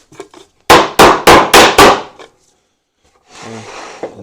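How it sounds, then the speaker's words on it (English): Five sharp, evenly spaced hammer blows drive a wooden piece of a kitchen cabinet into place, ringing out close by, followed by a pause and faint shuffling. "Make sure it's flush before you hammer it home."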